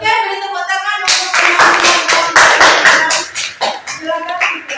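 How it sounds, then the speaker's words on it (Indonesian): An audience in a classroom claps for a student group, bursting into loud, close, uneven clapping after a brief moment of a voice, with some voices and shuffling mixed in as it tapers. "beri tepuk tangan untuk"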